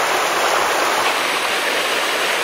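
A small stream tumbles down a cascade and waterfall with a steady, loud, broad rushing hiss, close by and continuous, with no voices.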